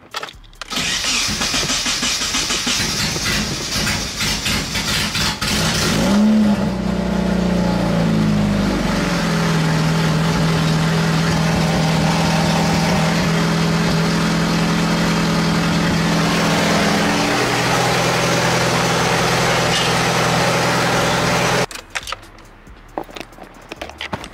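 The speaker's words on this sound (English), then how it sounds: "the car finally starts" A Nissan 240SX engine, unstarted for a year, cranks over after a few seconds, catches with a rising whine, then settles into a loud steady idle before cutting off abruptly near the end.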